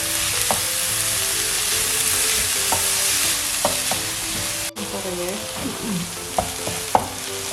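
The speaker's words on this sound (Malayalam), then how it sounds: "നന്നായിട്ട് സബോള ഒന്ന് വാട്ടിയെടുക്കണം." Onions sauté with a little salt in a pan for butter chicken, giving a steady close sizzle and frying hiss. A spoon scrapes and clinks irregularly against the pan as it stirs, with no talking.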